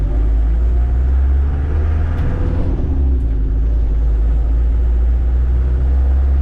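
A Land Rover Defender 110 engine drones loudly and steadily while driving, with a brief change in tone as it shifts between third and second gear, the low rumble dominating throughout.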